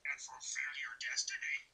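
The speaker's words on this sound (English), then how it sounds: "Well, that's my phone ringtone" A phone ringtone plays a short, bright melodic pattern of chirping tones, repeating in quick bursts for about two seconds at moderate volume.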